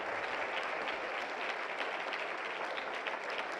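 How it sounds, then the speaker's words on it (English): A conference audience at a global entrepreneurs' summit claps steadily, a continuous even patter of applause heard from within the hall with no speech over it. "applause"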